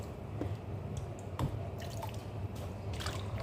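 Water splashes and drips steadily as fresh green vegetables are rinsed by hand, with faint squishing and trickling over a constant low background hum.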